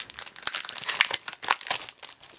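Adhesive craft sheets crinkle and crackle as they are cut, giving close, irregular bursts of dry rustling with no voices.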